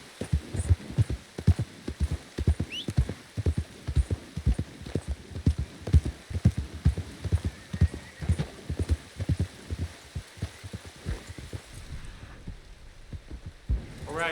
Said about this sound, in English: So we're going to go on the horse and just straight on across the water over there.